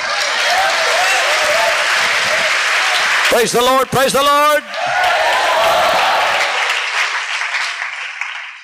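A congregation breaks into loud, dense applause during a sermon. The clapping drops out briefly while someone shouts a short praise phrase, then swells back and fades gradually.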